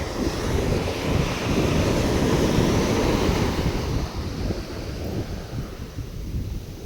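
Loud, broad surf rumbles and washes ashore, swelling then slowly receding, with wind buffeting the microphone and no voices.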